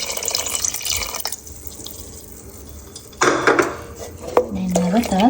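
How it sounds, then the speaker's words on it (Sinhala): Coconut milk mixture poured into a pot of finger millet and sago gruel, with a close liquid pour and splash and a few clinks of a spoon or vessel. "ඊට පස්සේ මම මේකට පොල්ටි මිශ්‍රණය එකතු කරගන්නවා."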